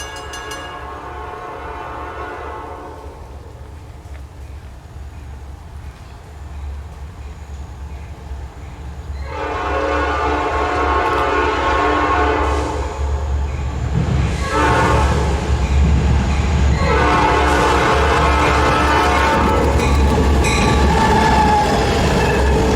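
A Reading and Northern fast freight train rolls past near tri-light signals after rain, its loud steady rumble and wheel noise swelling midway, with horn blasts sounding over the passing cars.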